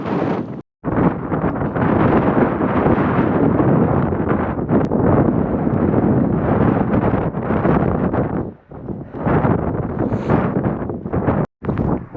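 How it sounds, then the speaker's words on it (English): Strong wind gusting across Hound Tor on Dartmoor buffets the microphone with loud, continuous roaring rumble, broken by a couple of brief drops, and no talk is audible. "the wind is really blowing."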